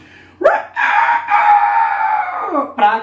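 Children's voices imitate a rooster crowing in a drawn-out, loud cock-a-doodle-doo, followed by a brief second call at the end, sung during a Brazilian nursery farm-animal song.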